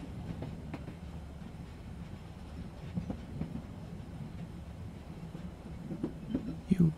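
Steady rumble of a passenger sleeper train rolling over rails through snowy pine forest and mountain country, with soft rhythmic clatter and a few louder knocks and squeaks near the end, no voices.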